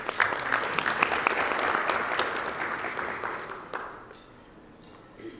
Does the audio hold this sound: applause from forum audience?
yes